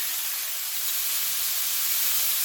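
Half an onion dropped into a hot pan for pork chops in green salsa sizzles with a loud, steady, close hiss that holds evenly throughout.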